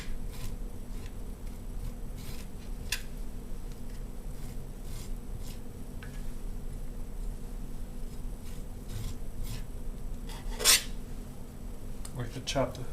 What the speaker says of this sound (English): you just scrape off that charred skin